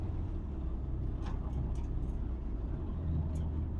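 Subaru STI with a coolant fault driving down the road, a steady, faint low engine and road rumble continuing without a break.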